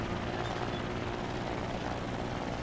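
A helicopter in the building game Trailmakers thrums loudly and continuously, its rotor chop steady and close for the whole short stretch.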